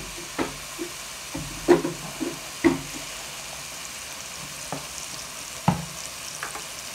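Green masala being stirred in a pan for a vegetable curry, giving a soft steady sizzle broken by several distinct spoon scrapes and knocks against the pan, close and moderately loud with no talking.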